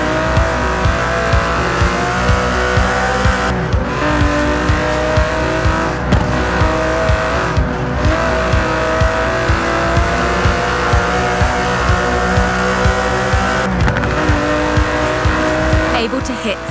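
Aston Martin DB11 with a 5.2-litre twin-turbo V12, racing in Forza Horizon 4, roars in a loud, sustained drone with rising revs, brief gear-change dips and tire squeal, with a voice talking over it.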